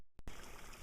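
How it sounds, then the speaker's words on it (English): Water runs steadily into rocks in a shallow stream, a close, continuous trickling and gurgling that starts after a brief knock and a moment of quiet. "there's water running here. It just goes into the rocks as it comes right down here close."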